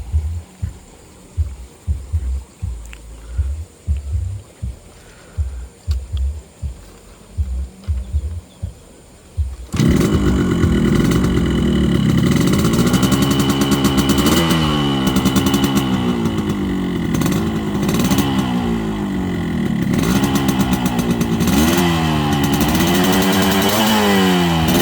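A Yamaha RX King two-stroke motorcycle starts after some clattering and handling sounds, then idles and blips loudly up close with a buzzy, throbbing exhaust note that rises and falls through repeated revs.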